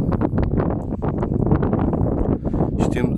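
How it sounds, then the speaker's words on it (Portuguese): Wind blowing across the open hillside landscape at Foz-Côa above the Douro river valley, buffeting the microphone in loud continuous gusts while someone speaks over it. "E agora está um pouco mais de vento."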